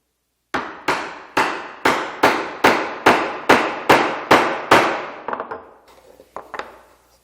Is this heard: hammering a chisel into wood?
yes